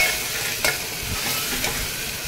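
Salt and spices stirred into a sizzling Indian vegetable dish on the stove, a steady frying hiss with a few soft spoon scrapes and taps across the pan.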